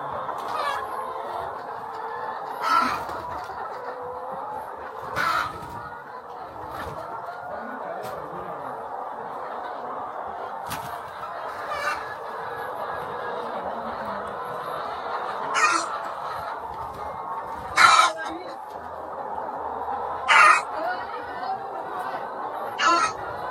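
Laying hens on a poultry farm near Yaoundé give soft, scattered clucks over a steady background murmur, with a few sharper, louder calls standing out at intervals.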